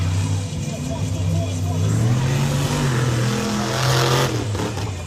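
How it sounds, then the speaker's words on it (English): A monster truck engine running rough during a show in Miami, Oklahoma, with a loud, continuous, uneven rumble that swells near the end, while a voice talks over it. "his motor sounds kind of bad too"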